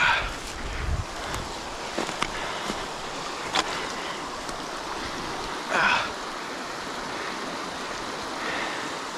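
Floodwater rushing through a flooded beaver dam on a rainy day, a steady broadband wash of flowing water with a few brief splashes and knocks over it.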